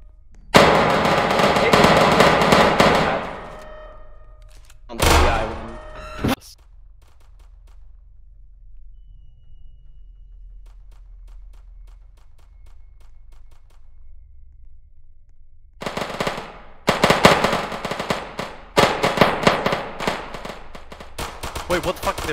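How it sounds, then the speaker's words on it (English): Enemies returning fire in an online shooter video game: loud crackling bursts of gunfire, a long quiet stretch, then dense rapid volleys. Players talk at times. "They're firing back!"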